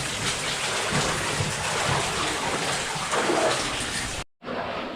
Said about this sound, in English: I've never seen another level with so much water running along the floor fast as well.